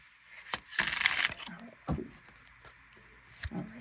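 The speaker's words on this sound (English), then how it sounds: "I want to do a better shuffle" A few short bursts of tarot cards being shuffled and riffled, close by and fairly quiet, with brief pauses between them.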